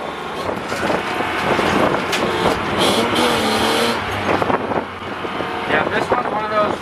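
Drift car engine roaring and surging as the clutch is kicked through a corner at drift practice, loud and continuous, with people talking over it.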